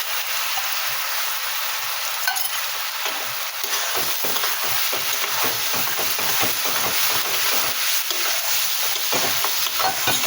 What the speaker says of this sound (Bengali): গাজরটা এইভাবে আমি একটু ভেজে নেবো